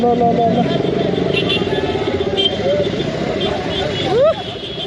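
Jammed road traffic with motorcycles and cars idling and revving in a steady, dense rumble, voices talking over it, and a short rising whine near the end.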